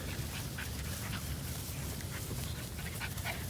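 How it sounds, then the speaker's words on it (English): A dog in a reverse-sneeze episode gives a steady, close wheezing and snorting pant that runs continuously without a break. "It's like a little wheezing attack, like a reverse sneeze."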